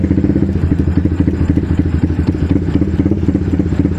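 A Yamaha Vixion motorcycle engine runs close by with a steady, throbbing, pulsing beat and a rough mechanical clatter, held at a fairly constant level with slight surges throughout.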